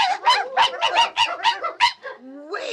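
Dogs on a vintage Disney 101 Dalmatians story record bark about seven times in a quick, close run, then give a short whimpering whine.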